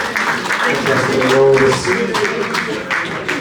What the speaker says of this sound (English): maybe a big round of applause for everyone from WorldKarts Kortrijk for the job they did